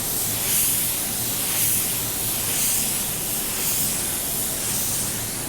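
Clear blending additive sprayed over the edges of car paint, a steady continuous airy hiss from the spray gun, loud and close, without pauses or talking.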